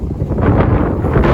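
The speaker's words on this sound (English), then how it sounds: "It's a very windy day today." Strong, gusty wind buffets the microphone on a city avenue in Toronto's Greektown, a steady broadband roar with surging gusts and no voices.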